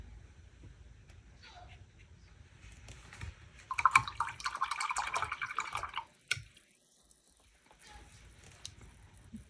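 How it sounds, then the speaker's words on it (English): Water drops tapped from a paintbrush onto a wet watercolour painting of grasses make a cluster of soft, close pattering taps over a few seconds, followed by a single brief tap in an otherwise quiet room. "Tap in some more water drops."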